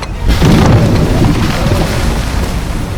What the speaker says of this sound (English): Austrian siege artillery pounded the Venetian defenses.